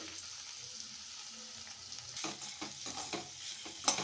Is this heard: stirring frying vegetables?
yes